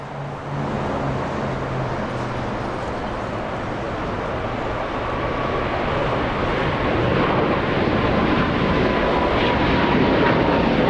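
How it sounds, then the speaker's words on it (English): A Boeing 777 bound for Taiwan takes off at LAX, its broad engine roar holding steady and slowly swelling over about eleven seconds, heard from a distance with no voices. "We're gonna have to go to the 777, about to lift off in front of our cameras"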